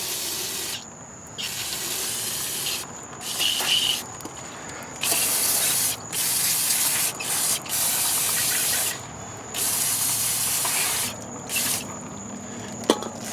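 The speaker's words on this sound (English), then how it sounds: "Spray this down with some brake parts cleaner." Repeated bursts of loud brake parts cleaner aerosol spray hissing close by onto rear drum brakes of a GMC motorhome, several long sprays separated by brief pauses.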